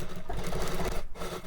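A sewing machine stitches along the very edge of a kurti seam, running as a steady, close mechanical whir with a brief dip near the end.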